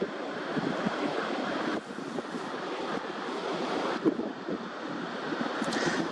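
A tidal bore churns at a river bottleneck, producing a dense, continuous roar of turbulent surf with steady wind buffeting the microphone, fairly loud and close, with no talking.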